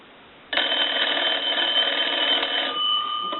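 Bells of a Kellogg wood wall telephone ring loud and unbroken after a quiet start, a steady metallic jangle lasting nearly three seconds before a lingering faint hum.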